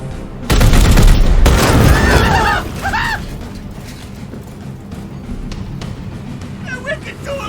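Gunfire in Warhammer 40k Chaosgate Daemonhunters at an explosive: a loud burst of rapid shots and blasts for about two seconds, followed by quieter game noises and chirping effects, with a voice speaking over it.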